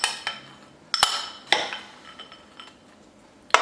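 Raisins tossed with flour in a bowl for Irish soda bread give a few sharp clinks and clatters of utensil against dish, separated by quiet gaps with faint rustling between.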